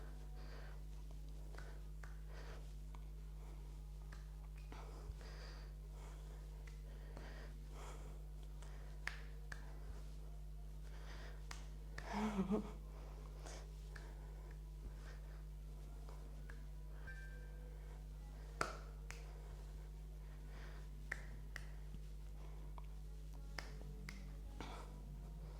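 Hands clap during an Afrobeats yoga flow, giving faint, sharp, scattered claps at irregular intervals over a quiet room with a low steady hum.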